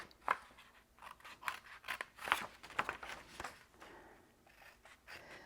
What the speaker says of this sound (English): we're going to take our snips and we're going to cut these pieces off completely.